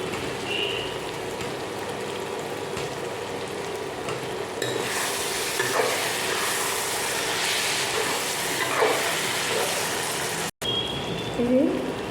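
Potatoes with turmeric and Kashmiri chili fry in oil for a curry, giving a steady sizzle that grows busier after the ingredients go in, with a person talking over it.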